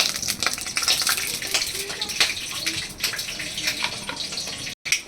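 White mustard seeds sizzle in a little hot oil, making a continuous bright hiss dotted with crackling pops, cut by a brief gap near the end.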